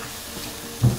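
Onions sweat in a pan, a soft, low sizzle that briefly swells into a louder fry near the end of a very short moment.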